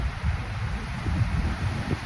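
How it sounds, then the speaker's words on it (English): Wind buffets an outdoor microphone in low, uneven rumbling gusts that swell and fade, with no voice over it. "It's windy."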